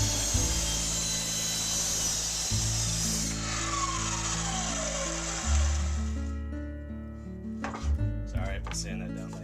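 A power saw rips a 1x4 wood board down the center, whining loudly and steadily as the blade bites, with shifting tones as the cut progresses, then fading to clatter and brief handling noises.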